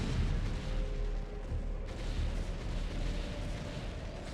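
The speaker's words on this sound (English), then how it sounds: "Also, what siege tanks are firing on what?" StarCraft: Brood War siege tanks shelling a base, heard as dull, booming artillery blasts rolling over a constant low rumble of battle noise, moderately distant and layered together.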